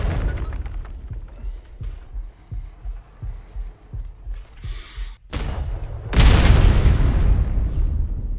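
An artillery round strikes a simulated forward operating base: a steady pulsing thump builds up, then a sudden loud burst and a broad roaring blast that lingers, with little talk.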